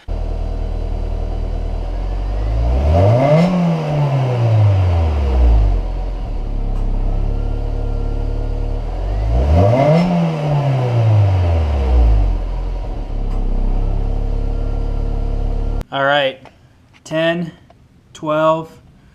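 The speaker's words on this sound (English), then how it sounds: "time for the first test. Stock exhaust." A Honda S2000 engine with stock exhaust revs up and falls back twice in long, rising-and-falling sweeps with a deep exhaust rumble, followed by a few short blips of throttle.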